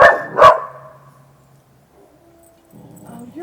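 A dog on a front porch gives two sharp, loud barks close by at a neighbor's dog, followed by quieter whining and yipping.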